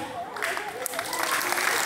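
Schoolchildren at an elementary school assembly clapping together, a dense wash of applause that swells and grows louder over murmuring young voices.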